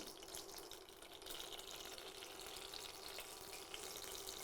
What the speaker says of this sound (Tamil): பட்டை பிரிஞ்சி இலை ஏலக்காய் கிராம்பு எல்லாத்தையும் போடுறேன் எண்ணெய் காய விட்டு போடுங்க